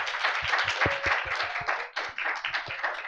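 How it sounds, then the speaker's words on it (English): A small audience claps for a presenter after an art school MFA research presentation, a short, thin round of distinct hand claps that thins out near the end. "Please give a round of applause to Montana Becker"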